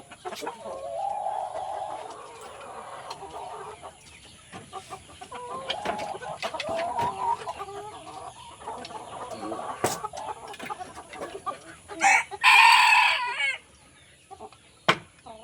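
A Filipino fighting rooster clucks in soft repeated bursts, then lets out a loud, sharp crow near the end, close by, against quiet background noise with scattered knocks.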